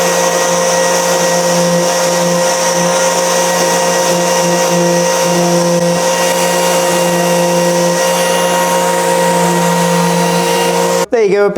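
An Erbauer power sander runs steadily on the beveled edge of an MDF offcut, a loud continuous whine and hum that holds for about eleven seconds before cutting off abruptly at the end.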